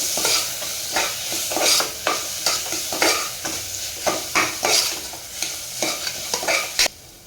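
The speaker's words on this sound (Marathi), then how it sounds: "इथे एक मोठा टोमॅटो घेतलेला आहे आणि ते सुद्धा तेलामध्ये छान परतून घ्यायचं आहे." Tomato, onion and ground masala sautéing in hot oil, with a steady sizzle broken by rhythmic scraping stirs of a spoon against the pan, close and fairly loud.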